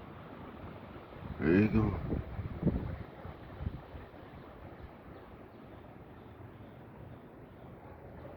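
Strong wind blowing outdoors on a clear, windy day, a steady broadband rush on the microphone that lasts the whole stretch, with a person speaking briefly near the start.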